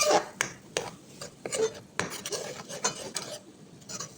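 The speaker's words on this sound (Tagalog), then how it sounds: "Maglagay tayo ng Sprite. Ayan. Haluin po natin." A spoon stirring butter garlic crab and shrimp with Sprite in a pan, with repeated close scraping and clinking strokes against the pan over a wet bubbling background, no talk.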